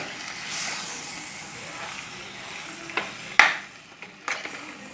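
Ivy gourd (kovakka) being stirred and mixed in a hot pan: a soft continuous sizzle broken by a few sharp scrapes and knocks of a spoon against the pan.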